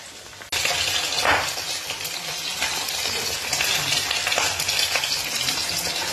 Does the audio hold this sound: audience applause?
no